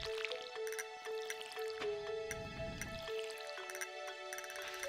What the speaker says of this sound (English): Well, time to water my plants.